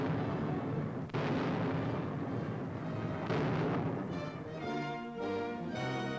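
Chinese troops fire grim mortars in a 1942 wartime newsreel, heavy booming blasts rolling over a dense, noisy old soundtrack, with a sharp report about a second in and a swelling, orchestra-like tone toward the end.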